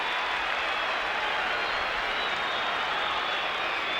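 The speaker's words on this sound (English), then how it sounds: "by the reaction of the crowd on that occasion as Kernahan kicked Carlton's third" A large football stadium crowd at a 1991 St Kilda versus Carlton match applauds and roars steadily after Kernahan kicks a goal for Carlton, a dense, continuous wash of clapping and cheering throughout.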